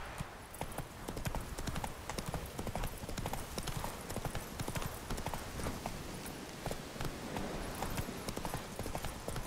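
Geralt's horse Roach from the video game The Witcher 3 trots steadily, hooves clip-clopping in a brisk, even rhythm for the whole stretch, with a soft game ambience beneath.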